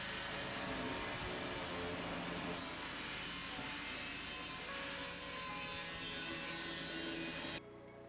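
Wood being cut and ground to fit during off-grid container and caravan upgrade work, a steady rasping, sawing scrape running loud and continuous for several seconds before cutting off abruptly.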